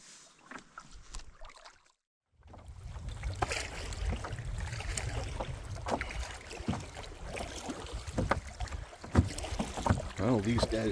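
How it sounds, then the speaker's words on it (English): Wind gusts across a lake during a canoe trip, a steady broadband rush of air and water noise beginning after a short quiet start and continuing loud and close throughout. "the wind kicked up."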